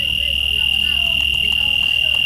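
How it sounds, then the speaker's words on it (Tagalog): A loud, steady electronic game-show buzzer tone drones continuously throughout, with voices and crowd noise underneath. "Sige sir, biglang nag-buzzer na nakakita si Lolo Aris eh"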